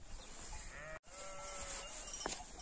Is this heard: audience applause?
no